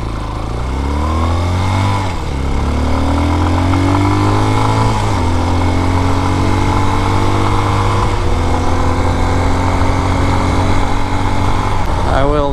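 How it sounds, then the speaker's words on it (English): A Raven BSR250 enduro motorcycle engine runs steadily and loudly up close, its revs rising and falling, with a faint rattling knock of detonation that could fit the lean-running engine. "You can actually hear the detonation in the engine."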